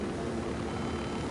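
Steady propeller-plane drone from the video game Ghost Recon Wildlands, a continuous engine hum heard close and unchanging with no talk over it.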